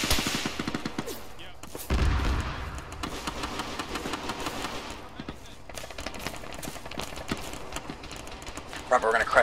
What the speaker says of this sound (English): Gunner back to the south or southwest somewhere shooting at our vehicles.